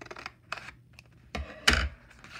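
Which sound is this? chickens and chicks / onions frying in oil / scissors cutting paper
scissors cutting paper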